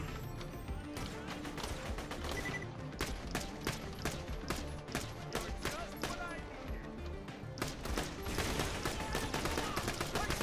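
Rapid bursts of gunfire from the video game Borderlands: The Pre-Sequel, dense repeated shots across the whole stretch, loud and continuous with a player's voice talking over them.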